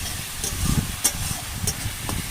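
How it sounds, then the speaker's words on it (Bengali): Masala frying and being stirred continuously in a pan: a steady close sizzling hiss broken by soft scraping strokes of the spoon. "মশলাটাকে এরকম কন্টিনিউ নেড়ে দিতে হবে, নাহলে নিচে বসে যাবে।"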